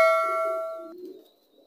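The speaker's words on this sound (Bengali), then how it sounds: "অ্যাকচুয়ালি এই লফটি হচ্ছে একটি দেশি কবুতর লফ" Domestic pigeons in an indoor loft set inside a shop lined with many cages, with a sharp metallic ding ringing out and fading, then soft low cooing murmurs close by.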